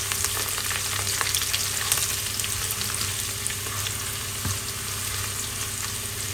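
Onion and garlic fry steadily in an oiled pan while fish and tomato sour curry is being made, a constant close sizzle with occasional stirring scrapes and small pops, no voices.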